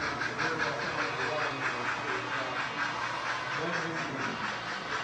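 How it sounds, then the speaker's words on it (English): A model railroad steam engine, number 102, shunting toward a string of trucks at a club layout, giving a faint, steady mechanical hiss and chuff with a rhythmic pulse and no talk over it. "we have a steam engine number 102 right here. It's back of us shunting towards the trucks."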